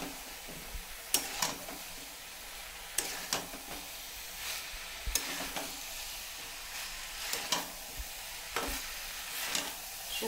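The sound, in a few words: vegetables frying in a pan for shukto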